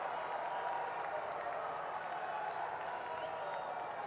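A large rally crowd applauds in praise of the Pushkar Dhami state government, a steady, loud wash of clapping with scattered cheers that holds throughout without pause.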